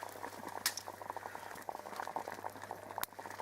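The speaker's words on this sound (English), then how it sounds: "just boiling up a can in the billy, just to heat it up" A can of Heinz soup heats in a billy of boiling water outdoors, giving a quiet, close, continuous bubbling and popping with a low steady hum underneath and no voices.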